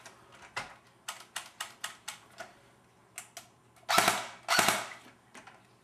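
Sharp, snappy shots from an AGM MP40 airsoft submachine gun fired at the floor pop in a series of single bursts, followed by two louder, rattling rapid-fire volleys, close by.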